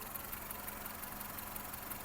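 A Volkswagen Golf VI 1.4 MPI petrol engine, running on petrol or LPG gas, idles steadily with a low, even rumble and faint mechanical hum, no voices.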